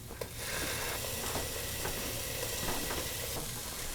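Garlic cloves hit a pot of carrots and onions and sizzle loudly, a close, steady frying hiss with small crackles and pops running throughout.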